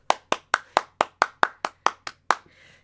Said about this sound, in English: Let's all give Fuka a big applause